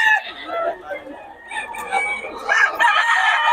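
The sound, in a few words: rooster crowing, fighting cocks at Bocaue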